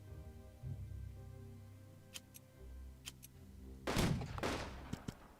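Artillery shells bombard the town of Colmar in the wargame Unity of Command II, heard as a few sharp cracks followed by a louder, rumbling burst of explosions near the end.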